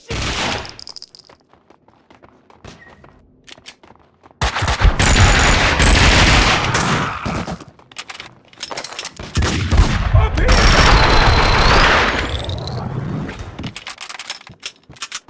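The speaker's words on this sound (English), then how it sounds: "Someone must have heard the gunfire." Dense bursts of rapid automatic gunfire erupt twice, loud and close, separated by quieter stretches of ambience in the video game Max Payne 2.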